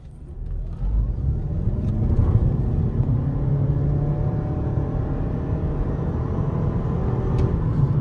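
A 2019 Lexus ES300h hybrid sedan accelerates from a low start, its engine and drivetrain rising into a steady, fairly quiet whirring rumble heard from inside the car, with no talking.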